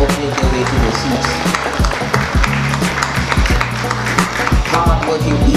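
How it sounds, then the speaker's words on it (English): Awards-ceremony audience at a small business awards event applauds the nominees heading to their seats, steady loud clapping throughout with background music underneath. "can we just offer a round of applause to all of our nominees as they make their way to their seats"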